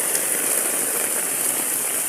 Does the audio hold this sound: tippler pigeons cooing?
no